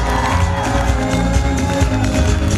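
A crowd at an achievers' recognition event in Indore claps and cheers as a woman is welcomed onto the stage, with steady loud applause, scattered whoops and a thick music-like bed underneath throughout.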